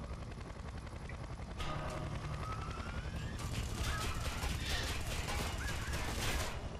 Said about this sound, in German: solange hier der Heli den Turm nicht kaputt machen kann